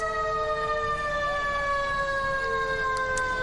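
A fire engine siren from the Sequan Fire Department on a reservation sounds as a steady, sustained wailing tone with bright harmonics, slowly dipping in pitch, heard from a moderate distance with no voices.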